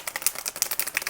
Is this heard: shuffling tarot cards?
yes